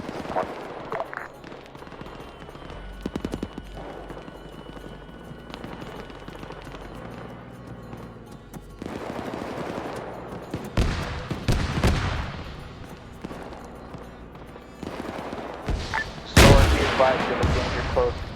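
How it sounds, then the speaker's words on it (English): Gunfire aimed at a vehicle in a military video game, with scattered shots and heavier bursts and blasts building toward a loud final volley, under occasional talk. "Now I'm gonna gun it the fuck down."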